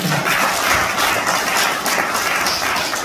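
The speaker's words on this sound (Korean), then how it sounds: "다시 한번 큰 박수 부탁드리겠습니다." Audience applause fills a hall at a civic event on reunification, a steady, dense wash of clapping at constant loudness throughout with no pauses or voices.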